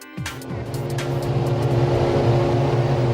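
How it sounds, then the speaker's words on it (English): Formula 1 cars revving at the 2008 Australian Grand Prix in Melbourne, a sudden loud engine roar building into sustained high-pitched revving from many cars close by. "The sound of 22 cars revving up in the sunshine meant only one thing."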